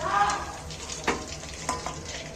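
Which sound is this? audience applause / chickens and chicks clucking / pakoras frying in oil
pakoras frying in oil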